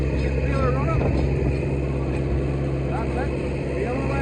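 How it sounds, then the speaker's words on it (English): Vintage hay baler driven by a tractor, its engine held at a steady, loud drone as it revs up to run the baler, with someone talking over the machinery throughout. "As you can hear, it's quite the note off the tractor to get the speed up, get the baler running."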